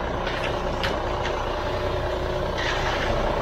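A concrete truck backs into position at a wet job site, its engine rumbling steadily throughout with a few short high beeps and hissing bursts rising over the continuous noise.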